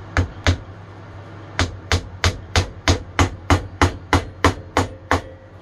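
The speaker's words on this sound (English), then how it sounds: "we're just going to hammer that into there" A hammer drives a piece into wooden casework with a dozen or so sharp, evenly spaced blows, loud and close, after two quick initial strikes and a short pause.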